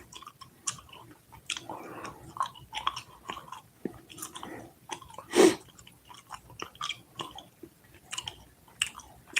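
Gum is chewed right at a close microphone, a steady run of soft wet smacks and clicks with one louder pop midway, with no talking.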